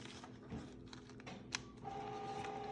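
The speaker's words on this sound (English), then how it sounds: "my printer's deciding to do, I don't know what, it's making a lot of noise behind me" Home printer running nearby, giving off clicks, whirs and a steady mechanical tone that rises near the end, moderately quiet in a room with no talk.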